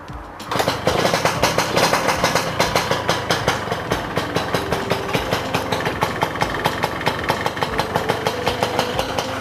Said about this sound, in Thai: เสียงท่อดังมากเลย